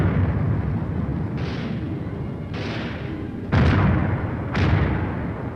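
A 4.2-inch mortar platoon fires in a Cold War battlefield demonstration, with heavy booms arriving one after another every second or so over a continuous roar, each blast loud and rumbling.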